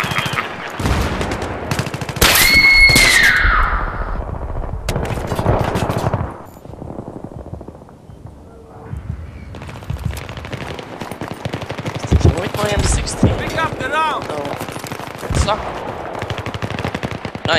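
Rapid machine gun bursts from the Battlefield 3 video game ring out loud and close, with dense stuttering volleys and scattered single shots over constant game noise, and a voice talks at times between the bursts.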